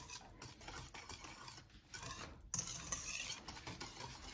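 Food ingredients being stirred and mixed in a bowl at home, giving a steady close scraping and swishing that continues throughout without speech.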